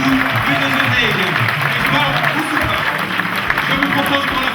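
A large indoor awards-gala audience applauds the winner of the 2009 Soulier d'Ébène prize, a dense, continuous wash of clapping with crowd murmur that holds steady throughout, while a presenter's voice carries over it.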